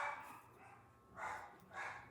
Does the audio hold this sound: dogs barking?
yes